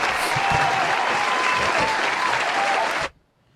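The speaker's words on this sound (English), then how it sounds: "standing ovation clap" A crowd bursts into sustained applause, dense and loud, holding steady for about three seconds before cutting off abruptly into near silence.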